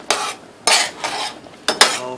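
A utensil scrapes and clinks against a pot while vanilla extract is stirred into boiling strawberry topping, making three or four short strokes close by.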